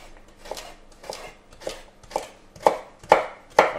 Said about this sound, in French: On va débiter le reste du panais